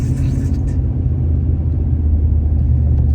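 A truck engine runs rough, a loud, close, low rumbling drone that holds steady for about three seconds with an uneven, pulsing texture.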